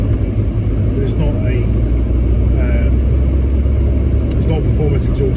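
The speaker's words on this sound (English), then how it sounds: "I am going to change the exhaust because it makes a lovely noise with the exhaust, but it's too bellowy." A Volkswagen Golf mk4 with a V5 engine, fitted with a universal black-box performance exhaust, idles with a loud, steady, deep bellowing rumble throughout, while someone talks over it.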